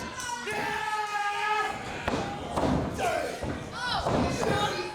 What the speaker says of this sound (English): exploder suplex into the corner